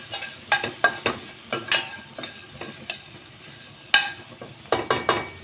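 Coconut and spices sautéed in a pan for mutton curry, with repeated scraping stirs and light sizzling in an irregular rhythm, close and fairly clear, no talking.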